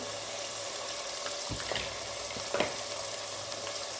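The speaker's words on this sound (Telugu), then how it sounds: "ఈ టమాటా మొత్తం కలుపుకొని చిటికెడు పసుపు" Chopped tomatoes fry in a pan for chicken biryani under a continuous close sizzle, with a few distinct stirring scrapes and spoon knocks scattered through it.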